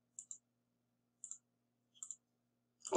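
Three pairs of sharp, quiet mouse clicks with pauses between them, made while testing a tabs component in the Pinegrow web editor, ending in a louder rising noise; no voices.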